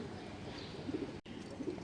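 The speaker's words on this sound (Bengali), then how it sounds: "আমার একটা পাজি কবুতর আছে" A pigeon coos softly a couple of times, low and murmuring, against a steady background hiss.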